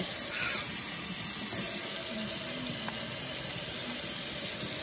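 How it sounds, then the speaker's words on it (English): Water pours steadily into a turkey roasting pan at Thanksgiving, a continuous close splashing and trickling that runs for several seconds without talk. "Just add a little bit of water to the pan."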